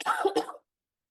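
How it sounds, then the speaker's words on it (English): A woman coughs a couple of times in quick succession, close and fairly loud, followed by silence. "Every time she coughs, I need you to know she's not sick."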